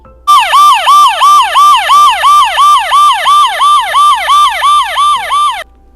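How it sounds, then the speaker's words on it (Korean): A loud police car siren wails in a fast, repeating up-and-down pattern, sounding close and continuous for several seconds before cutting off. "Yes, it is a police car."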